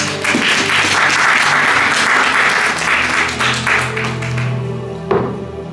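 A church congregation at a French-language service breaks into sustained applause, dense and loud at first, thinning toward the end with a few final claps.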